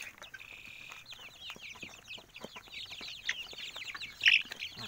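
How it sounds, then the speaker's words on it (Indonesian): Farm chickens suffering in the heat cluck and squawk in a busy, overlapping chorus of short calls, with one louder squawk near the end and no talking. "Ayam-ayam pada kepanasan,"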